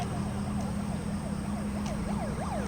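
An ambulance siren wails in a rising and falling sweep over a steady low rumble of traffic jam in Kathmandu, Nepal, moderately distant and continuous throughout.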